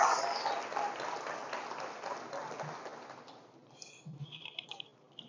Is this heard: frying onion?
no